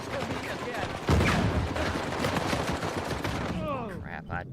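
Automatic gunfire in an Uncharted 4 team deathmatch: dense, rapid bursts with a heavy loud volley after the first second, continuing steadily, and a brief vocal sound near the end.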